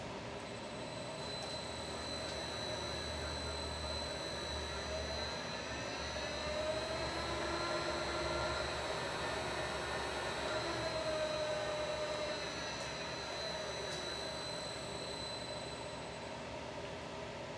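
The 5 horsepower horizontal spindle motor of a Fortworth CS-G450C milling machine runs with a steady mechanical hum and faint whine, drifting gradually in pitch, alone and continuous.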